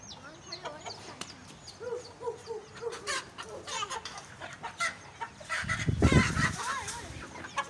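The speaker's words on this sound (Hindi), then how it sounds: "ये असील मुर्गा है ना" Aseel rooster and hens on a poultry farm keep up soft clucks and scattered calls, with a brief low rumbling burst partway through, while a person talks quietly in the background.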